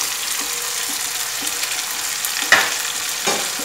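Ginger-garlic paste and chopped green chili frying in a pan, a steady hiss of sizzle with a few soft stirring knocks and one sharper scrape, close with no voices.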